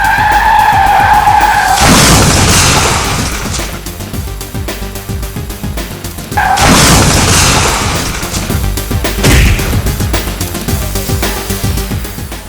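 A car swerves and skids in a movie action scene, with two long, loud tire screeches roughly four seconds apart, each followed by a rumbling roar and noisy scraping.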